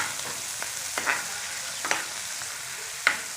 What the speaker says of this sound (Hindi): अब यहाँ पे हमने प्याज को भूनना है अच्छी तरीके से।